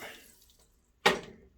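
Two quarts of water poured into a pot in the kitchen, a brief close splash and gush that fades quickly after a short lull.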